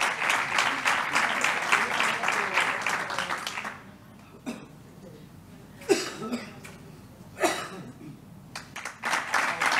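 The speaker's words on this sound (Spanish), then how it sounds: "Un aplauso a Miquel" A crowd at a Civil Protection awards ceremony applauds loudly for a few seconds, then it stops, and scattered coughs and a few brief claps follow in a quieter room.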